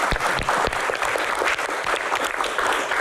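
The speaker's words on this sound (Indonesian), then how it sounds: "Tepuk tangan" An audience at a Q&A event with a government minister as guest applauds steadily and loudly, a dense, continuous clapping with no pause.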